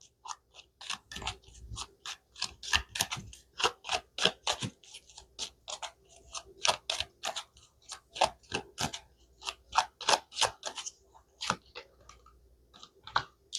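Cards shuffled by hand in rapid bursts of crisp, riffling clicks and snaps, close and clear, repeating in irregular clusters with short pauses between.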